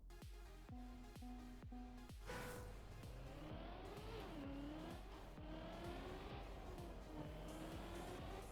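Video-game racing car engine revving and roaring continuously, with rising and falling pitch sweeps as it accelerates through gears, loud and close, with a few sharp knocks near the start.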